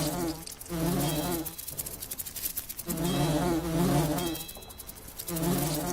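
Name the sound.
wasps buzzing in the video game Lords of Xulima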